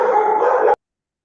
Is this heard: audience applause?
no